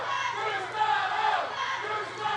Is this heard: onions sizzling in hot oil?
no